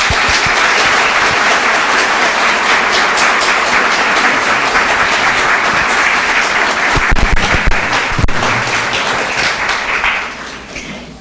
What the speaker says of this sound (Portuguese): Vamos receber com uma salva de palmas bem calorosa nessa noite fria